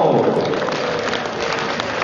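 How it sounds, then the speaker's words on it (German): Audience applause at a Western riding competition after a rider comes off a horse, a dense, steady wash of clapping from a crowd throughout, fairly loud and continuous. "da geht der Reiter vom Pferd, ein Applaus"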